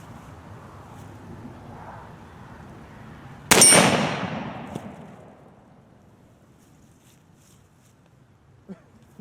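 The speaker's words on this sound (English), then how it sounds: "I heard a little ting from a ball hitting a plate" A .50 caliber round ball from a Traditions Trapper black powder pistol strikes a steel target plate: one sharp, distant metallic clang that rings and fades over a couple of seconds against quiet outdoor wind.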